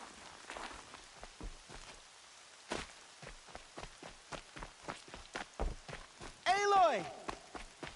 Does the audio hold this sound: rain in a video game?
yes